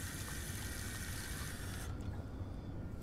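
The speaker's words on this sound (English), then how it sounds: "Get a cup of water." A cup being filled with water in the Fahrenheit video game: a steady rushing pour of water that stays constant, then its bright upper splash drops away near the end, leaving a softer flow, with no voices.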